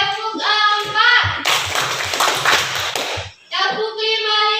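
Children in a classroom clap in a counted rhythm, producing a loud, close burst of quick hand claps that breaks up an adult voice chanting before and after it.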